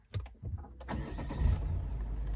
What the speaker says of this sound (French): on va démarrer la voiture de suite